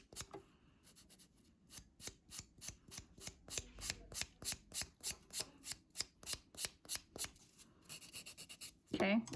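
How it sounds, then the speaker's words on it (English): A soft nail buffer gently buffing a cured dark gel nail: a long, steady series of quiet, evenly paced rubbing strokes, soft and close, ending with a brief louder handling noise. "We're gonna use the soft buffer to just gently buff any imperfections out."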